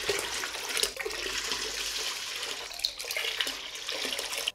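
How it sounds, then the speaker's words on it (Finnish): Water splashes and gushes steadily into a bucket as five litres are measured out, a close, continuous pour with a brief pause and change of tone near the end. "mitataan tänne tarkasti 5 litraa vettä tänne ämpäriin"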